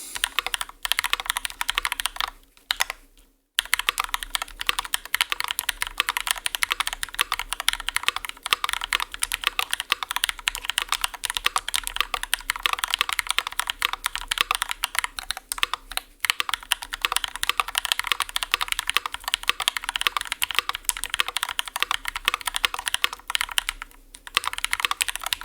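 Fast, steady typing on a tape-modded RAMA M60a mechanical keyboard, a dense run of close, crisp keystrokes with a couple of brief pauses and no talking.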